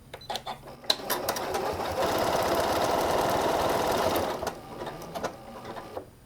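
A Janome M8 sewing machine runs steadily while stitching a buttonhole, a sustained close mechanical whir that starts after a few light clicks and stops at the automatic end, followed by faint handling sounds.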